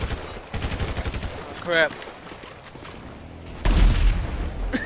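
Gunfire and a rocket explosion in GTA 5: rapid bursts of automatic shots, a brief voice, then a heavy booming blast near the end, loud and close.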